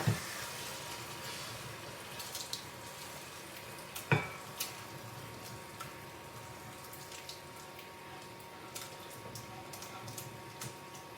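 A spoon stirs a borscht vegetable base frying in a pan as the liquid cooks off, with a soft steady sizzle, scraping movements and one sharp knock near the start.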